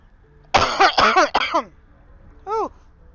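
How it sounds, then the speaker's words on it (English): A man coughs and clears his throat in three rough bursts close to the microphone, then after a pause gives one short, softer throat-clearing grunt. "Still have a little bit of a cough."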